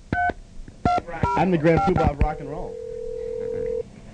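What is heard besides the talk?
telephone dialing tones then ringing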